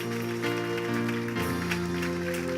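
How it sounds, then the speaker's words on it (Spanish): A church congregation applauds during a worship service, a steady wash of clapping over sustained keyboard chords that runs the whole stretch without letting up. "Aplaude al Rey si lo crees."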